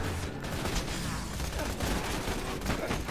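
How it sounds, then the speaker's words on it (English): Rapid pistol gunfire in the Borderlands 2 video game crackles as a dense, continuous burst of overlapping shots lasting several seconds, loud and busy with no clear gaps. "I'm going to shoot him with a pistol"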